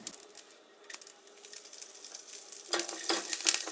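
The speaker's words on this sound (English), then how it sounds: "You can see and hear the mustard seeds are spluttering." Mustard seeds, cumin and roasting peanuts splutter and crackle in hot oil in a pan for Indian okra cooking. A soft steady sizzle builds into louder close popping toward the end.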